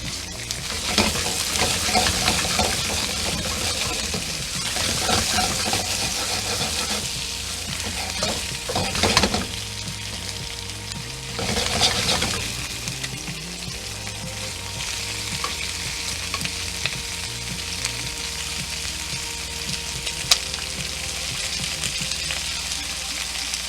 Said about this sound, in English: And you want to stir fry this for about 2 to 3 minutes.